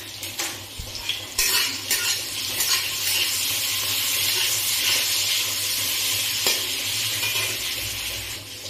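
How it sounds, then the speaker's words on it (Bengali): Eggplant pieces frying in hot oil in a pan, a steady close sizzle with scattered clinks of a metal utensil against the cookware. "এবার বেগুনটা হালকা লাল করে ভাজা করবো।"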